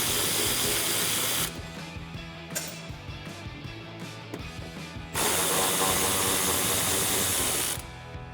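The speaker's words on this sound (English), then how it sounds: "we're also going to remove the 2 bolts that hold on this small mud flap here" A power ratchet buzzes loudly in two long bursts as bolts holding a small mud flap on a 2019-2020 RAM 1500 pickup are removed, with metallic clicks and shorter whirs between them.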